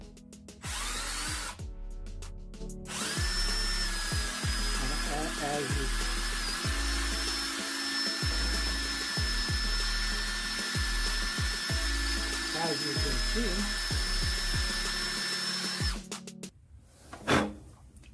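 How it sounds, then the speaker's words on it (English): A power drill whines steadily at a high pitch for about fifteen seconds, boring into synthetic lumber, with brief talk at the start and scraping sounds afterward. "I'm just going to demonstrate now that we can drill this just like we could real wood."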